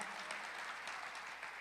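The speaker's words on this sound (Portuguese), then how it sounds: "Dê uma salva de palmas para Jesus." A church congregation claps together in a brief, steady burst of applause, heard at moderate distance and fairly faint.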